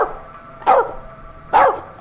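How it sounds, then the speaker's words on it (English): A dog barks in the video game As Dusk Falls, two loud, evenly spaced barks close by against a low background hum. "All right, that's reliable, a dog."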